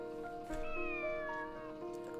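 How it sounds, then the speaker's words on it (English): A cat meows in the game Dragalia Lost, a few drawn-out, tonal meows close and clear over a steady layer of game music. "If you can hear us, meow back."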